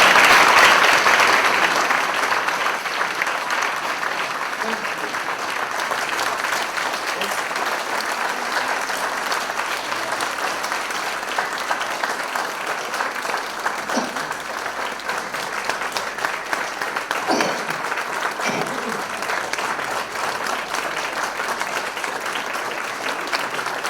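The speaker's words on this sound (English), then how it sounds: "a big round of applause for Mr. Charles and Malina Saval" Sustained applause from an audience at an evening talk about a Holocaust survivor of twelve concentration camps, a broad, steady wash of many clapping hands that stays even throughout, with faint murmuring beneath.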